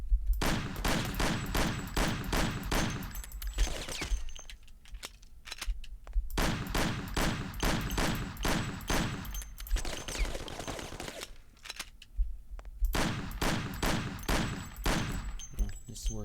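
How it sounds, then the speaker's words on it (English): Rapid bursts of Tommy gun fire from the Mafia video game, loud and close, in several long strings separated by short pauses, with a voice talking faintly in between. "Tommy gun."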